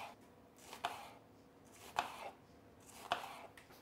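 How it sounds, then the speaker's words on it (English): A knife slices through an onion on a cutting board, three separate crisp cuts spaced about a second apart, close and fairly quiet, with no talking. "you're gonna simply just slice through like that"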